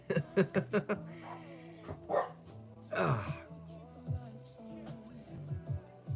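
Small dogs bark in quick bursts, a rapid run of sharp yaps at first, then scattered barks and whines at moderate distance, fairly quiet overall.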